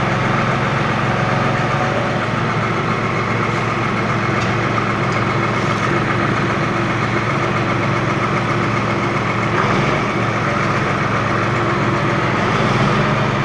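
A tractor engine idles steadily at close range, a low rumbling mechanical drone with faint knocking and no voices.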